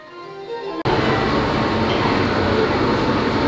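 After a short stretch of faint background voices and tones, an Epcot monorail train rushes past with a sudden loud, dense rumble that stays steady and near to the end.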